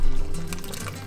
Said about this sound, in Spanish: agregamos más agua, de preferencia caliente para no bajar la temperatura